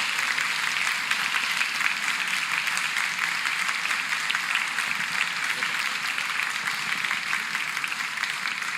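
A church congregation at a morning celebration service gives a round of applause, a dense and steady wash of many hands clapping that holds evenly throughout at moderate volume.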